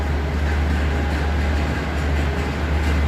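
Loud continuous rumble of an air-conditioned train bound for Chiang Mai at Hua Lamphong station, a heavy low hum with steady mechanical noise throughout and no talking.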